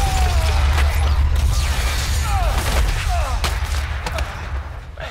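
Gunfire and mechanical clatter from the sci-fi shooter Dead Space 3 during co-op play: a few sharp reports and creaking metallic sounds over a steady, loud low rumble of game ambience.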